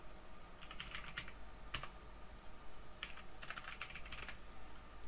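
Typing on a computer keyboard while entering commands for a Discord.js bot: scattered bursts of quick key clicks with pauses between them, close and fairly soft over a steady hum, no speech.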